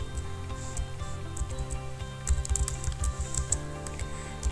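Computer keyboard keys tapped steadily while Java code is entered, a close run of light clicks with irregular rhythm and brief bursts of faster typing, over a low background hum.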